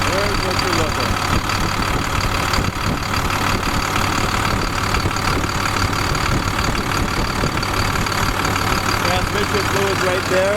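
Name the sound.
International DT466 diesel engine idling in box truck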